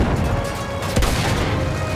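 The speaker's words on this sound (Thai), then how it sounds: "เฮ้ยระเบิดระเบิด" A loud explosion in the video game Battlefield 1 bursts out of a dense, noisy soundscape, a single sharp boom that rumbles briefly before fading back into the din.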